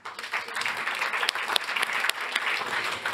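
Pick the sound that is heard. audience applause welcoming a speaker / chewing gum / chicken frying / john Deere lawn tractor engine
audience applause welcoming a speaker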